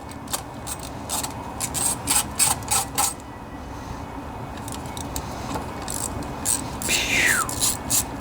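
A socket wrench works on intake bolts of a Briggs and Stratton 18.5 hp V-twin OHV Intek lawnmower engine, giving a close, continuous rubbing and scraping with short metallic clicks and jingles over several seconds.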